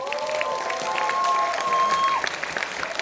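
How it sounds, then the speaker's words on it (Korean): Audience applause breaks out at a Democratic Party supporters' gathering at Gwangju Institute of Science and Technology, a dense, steady clapping wash from a crowd that holds for about two seconds before thinning, with a sustained tone over it. "대한민국의 행동하는 민주당원들에게 박수 한번 해주십시오."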